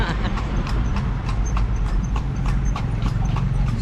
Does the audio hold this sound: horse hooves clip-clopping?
yes